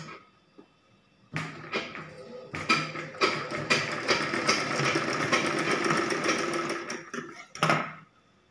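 Sewing machine stitching a cloth flower along its edge during tailoring, a steady mechanical whirr running for several seconds after a few short starts, with brief pauses and bursts near the end.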